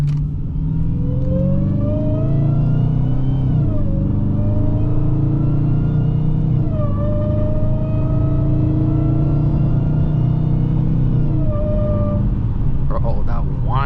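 A car engine hums steadily while driving, rising in pitch through several gear shifts with smooth acceleration, heard close from inside the cabin with a low rumble underneath.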